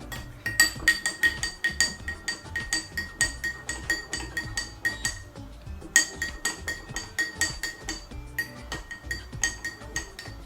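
A spoon stirs salt into a glass during a simple classroom experiment, producing rapid, rhythmic ringing clinks of metal against glass that repeat steadily up close with short pauses between bursts.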